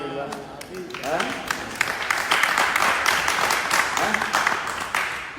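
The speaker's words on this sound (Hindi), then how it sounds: "चलो हाथ ताली दे दो कम से कम" Audience clapping hands during a spiritual class in Delhi, a dense patter of applause running under a speaking voice throughout.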